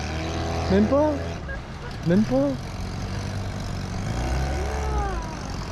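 Outboard motors drive a river ferry barge in New Caledonia, a steady low drone running throughout while people talk close by.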